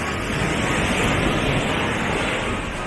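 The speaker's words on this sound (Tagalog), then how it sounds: "Ang lakas ng alon." Strong ocean waves wash onto a beach in a loud, unbroken roar of surf and wind noise, filling the whole clip with dense hiss and no distinct individual breakers.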